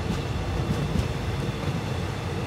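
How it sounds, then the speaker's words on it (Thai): A train passes through Nakhon Chum station in Thailand on the southern line, giving a steady, loud rumble of railcars that holds at an even level with no speech over it. "มีขบวน254นะครับหลีกให้ที่ทาง2นะครับที่สถานีนครชุมนะครับ"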